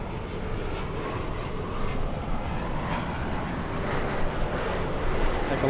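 An Airbus A220 airliner flying at LAX, a steady broadband engine roar holding constant throughout with no voices.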